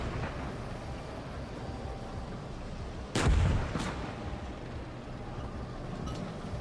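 Artillery fires in a tank combat video game over a constant low rumble of engine and battlefield noise. One booming shot is followed by a fainter second report a moment later.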